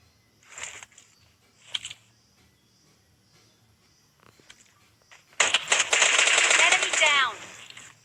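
PUBG gunfire starts with a couple of short, distant shots, then a loud sustained burst of rapid automatic fire in the final seconds, with a voice talking under it.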